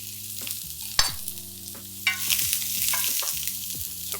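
Onions frying in oil in a hot pan for a zucchini and chickpea quinoa stir fry, a steady close sizzle with scraping stirs and occasional louder bursts, no talk.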